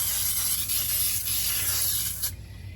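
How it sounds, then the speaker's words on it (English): Baking spray is sprayed into a 9x13 baking pan, giving one steady, close aerosol hiss that lasts a couple of seconds and then cuts off. "we're going to start out with some baking spray"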